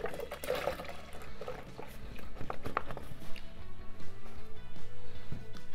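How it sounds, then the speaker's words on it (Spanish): A litre of milk poured into a Thermomix bowl in a kitchen, a steady liquid stream running for several seconds at close range, with some faint handling knocks and no talking. "Y en el vaso del Thermomix voy a colocar 1 litro de leche."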